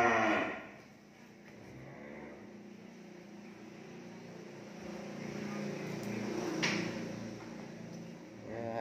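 Cattle at a cattle farm in Ben Tre province, Vietnam, give a long, low, drawn-out moo close by, with a quieter rustle and knock of farm activity around it.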